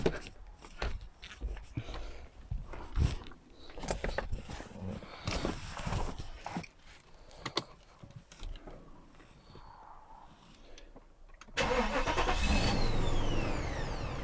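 A Mercedes S500 W140 engine cranks and catches near the end, settling into a loud, steady idle after some earlier clattering and shuffling noises.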